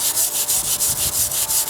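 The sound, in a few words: wire brush scrubbing wooden deck stairs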